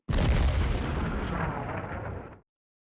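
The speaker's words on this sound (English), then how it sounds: "so I can shoot with my 15 centimeters SFH 13, I can shoot at this guy" A single heavy artillery blast from a 15 cm sFH 13 howitzer in the Hex of Steel strategy game booms out and then rumbles away over about two seconds before cutting off.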